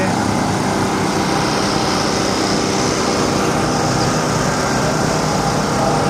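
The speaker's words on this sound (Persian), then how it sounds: "برق هم نیست دیگه، صدای این موتور برقا" A steady, droning motor hum with a high whine runs without a break, close by and fairly loud, from a small electric generator engine running during a power outage.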